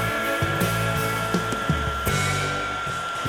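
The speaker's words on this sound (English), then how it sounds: "Force cure that stain using a heat gun." A heat gun blows steadily to force-cure fresh stain on wood, a constant airy whine with a fixed tone and a few faint knocks and shifts as it moves, loud and close with no talk.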